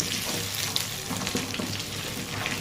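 Pointed gourd (potol) pieces fry steadily in a pan for a prawn and potato dish, giving a continuous close sizzle with faint crackles and no talk.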